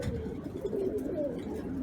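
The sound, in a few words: pigeon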